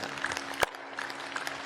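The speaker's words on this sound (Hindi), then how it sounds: "एक बार जोरदार ताली बजा दो भाई सबके लिए।" Audience at a yoga health gathering clapping, a steady mid-distance patter of many hands filling the short stretch, with no talk over it.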